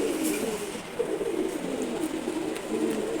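Two male pigeons coo in low, soft, repeated murmurs, close by and steady throughout, with no talking.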